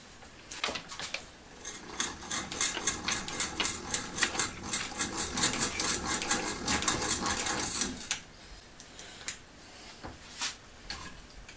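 Rapid ticking and whirring of a Fulton two-speed breast drill with a half-inch twist bit, cranked at a steady pace, a dense chatter of clicks lasting several seconds before slowing to scattered taps.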